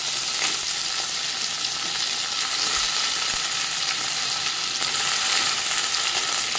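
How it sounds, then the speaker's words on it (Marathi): Okra, onion and tomato sizzle steadily in a pan, a dense continuous frying hiss with faint occasional stirring, close and without voices. "भेंडी आणि कांदा टोमॅटो चांगला लालसर होईपर्यंत आपण ते परतून घेत राहायचं."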